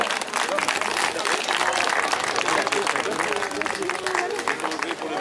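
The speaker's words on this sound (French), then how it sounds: "Les applaudissements du public." Sustained applause from an outdoor crowd at a youth cyclo-cross podium ceremony in Châteaugiron, dense steady clapping throughout with faint background chatter.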